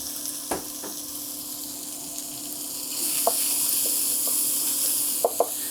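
Bacon sizzling in a hot pan, a steady crackling fry with a few sharp pops and utensil clinks, growing louder partway through, with no talking.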